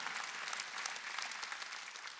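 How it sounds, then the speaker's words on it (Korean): A church congregation applauds during a Korean Wednesday worship service, many hands clapping in a dense, steady burst heard from some distance, moderately quiet and without any voices over it. "박수 치라 이기야."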